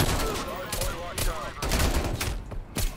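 Rapid strafe-run killstreak gunfire in Call of Duty: Cold War, a dense burst of overlapping shots and explosions rolling on for a few seconds, loud and sustained, with a voice talking over it.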